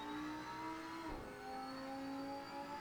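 A Lamborghini Huracan EVO engine in Assetto Corsa on PS5, lapping the Nordschleife, hums steadily and faintly at high revs, with a brief dip as it shifts gear before climbing again; no talking.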